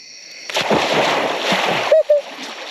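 Water sprays and splashes steadily for a couple of seconds as a vehicle pushes through a shallow creek, with a short whistle-like tone near the end.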